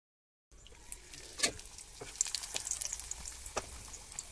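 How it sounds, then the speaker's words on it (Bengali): Luchi, a Bengali puffed flatbread, frying in hot oil: a faint, steady crackling sizzle with sharp pops, starting after a short silence and continuing without talk. "একটা করে তেলে ভাজবো।"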